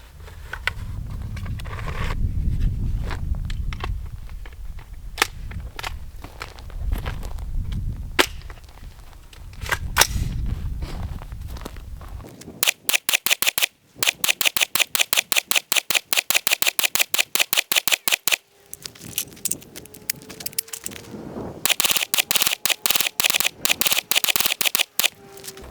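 Rapid gunfire from a handgun fitted with a mounted weapon light, loud crisp shots in fast strings and bursts with short pauses between magazines, after a stretch of rumbling low handling noise.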